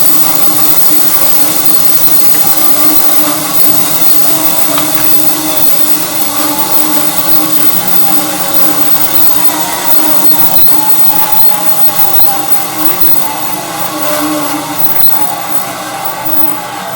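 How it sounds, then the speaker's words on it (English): A bandsaw used for resawing boards runs loud and close, giving a steady mechanical whir and hum that holds constant throughout, with no speech. "Alright, so that's the bandsaw."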